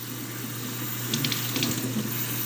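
A water tap runs steadily into a sink, a continuous hissing splash close by. Faint plinks and gurgles sit on top of the constant flow.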